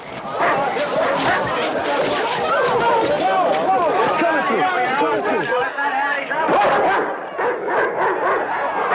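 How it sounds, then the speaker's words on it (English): A pack of dogs barks, yips and whimpers in a loud, dense, continuous chorus, several animals overlapping close by, with voices mixed into the commotion. "Get those dogs out of here."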